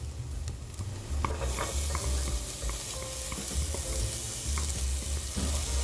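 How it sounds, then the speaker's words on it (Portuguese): Chopped garlic sautés with onion in a pan for potato and bacon soup, making a dense, steady sizzle close by, with a few light utensil taps and a low rumble underneath. "Já refoguei aqui o alho junto com a cebola."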